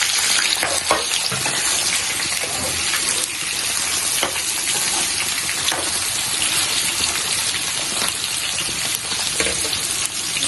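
Potato pieces fry in hot oil in a pan for a pappu aloo dish, giving a continuous close sizzle with occasional crackles and stirring sounds. No talking is heard.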